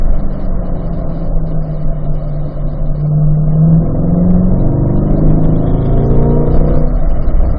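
A car at a performance driving school accelerates through a corner on track, its engine note climbing steadily and loud inside the cabin over a constant road rumble.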